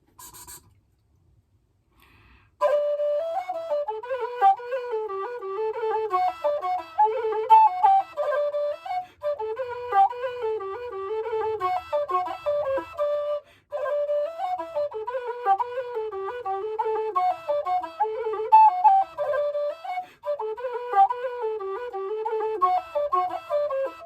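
Howard low D whistle fitted with a reed head plays a sustained melody of breathy, reedy tones, loud and near, after a short silence, with one brief break mid-phrase and no talking.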